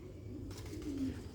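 A black-faced pigeon cooing softly in a low, steady, throaty tone, close but faint, with no other sound over it.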